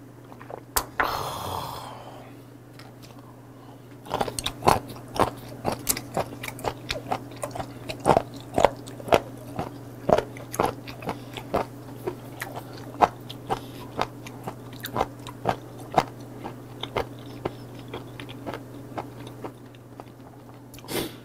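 Raw candlestick whelk sea snail sashimi is chewed close to the mic with steady, crunchy bites repeating for about twenty seconds over a low constant hum, without talk.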